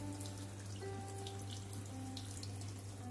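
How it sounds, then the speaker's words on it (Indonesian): Steady running tap water splashing onto a metal pressure cooker, a continuous close hiss with a low hum underneath. "kita siram dengan air keran, maka kita tidak harus menunggu lama"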